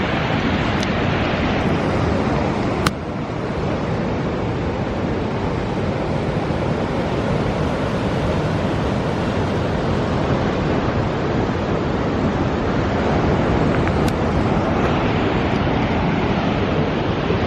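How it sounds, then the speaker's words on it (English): Surf rolls onto the beach below the Varkala cliffs in India, a continuous broad roar of breaking waves mixed with wind buffeting the microphone, with a sharp click near the start. "That's the sort of beach I've been waiting for."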